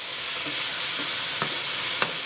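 Minced garlic sizzling loudly and steadily in a hot pan for smothered chicken, with a couple of soft stirring scrapes near the end and no voices.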